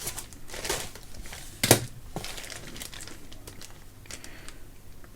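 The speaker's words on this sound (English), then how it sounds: "Now the keyboard for the computer which I'm repairing" A computer keyboard under repair is handled close up, with scattered crinkly clicks and rattles and one sharp clack partway through.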